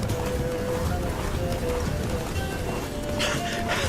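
Roach the horse gallops with steady drumming hooves in the Witcher 3 game, close and continuous, mixed with wind and ambient game sounds.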